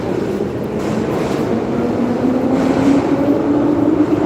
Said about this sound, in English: this train is very fast